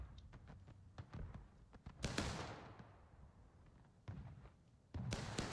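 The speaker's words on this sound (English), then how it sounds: "Not sure what that artillery fire is hitting currently." Distant artillery fire in a Civil War battle game, faint thuds and cracks scattered irregularly, with a few louder booms standing out over low ambient rumble.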